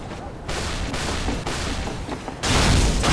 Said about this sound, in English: Hey, who's shooting rockets?